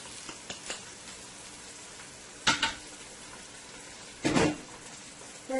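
Washed split peas and then cumin seeds go into a hot pot, making two short, sharp sizzling bursts a couple of seconds apart, with faint clinks before them in a quiet kitchen.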